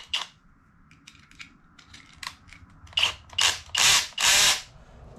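A Kobalt power drill on speed 1 gives several short whirring bursts as its clutch slips and ratchets, with faint ticks at first and then four loud, close, separate bursts near the end.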